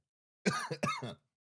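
Two quick throat-clearing coughs in succession, close and fairly loud, then silence.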